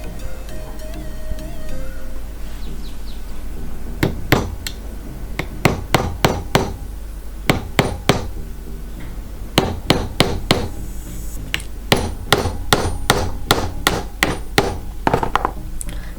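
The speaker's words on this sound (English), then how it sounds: "And now you can try hammering the blunt head of your nail." Sharp hammer strikes ring out in irregular clusters, a blunt-headed nail being driven into wood with quick repeated blows over a low steady hum.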